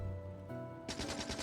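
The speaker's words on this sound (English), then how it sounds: "And then we destroy the wooden box." Rapid gunfire in the Factorio video game shooting apart a wooden box, a quick burst of repeated shots following a quieter moment.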